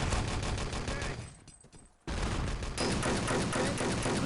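Sustained automatic gunfire from an Enemy Territory match, dense rapid bursts filling most of the stretch, dropping briefly to a quieter lull before a sharp return to loud continuous shooting, with faint commentary underneath.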